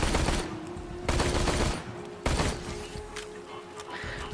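Sniper rifle gunfire in the video game Borderlands, a few loud booming shots with long rumbling tails, spaced about a second apart, followed by fainter rapid popping.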